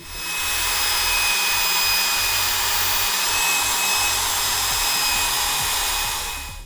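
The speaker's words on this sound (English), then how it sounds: "What I did notice was when I ran the polisher across this way" A car polisher buffs a scratch on car paint during mag scratch removal, a steady loud whirring drone that runs unbroken from start to finish.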